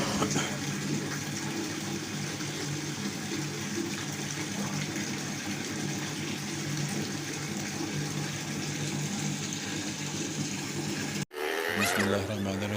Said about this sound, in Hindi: हम फ़िल्टर से पानी भर रहे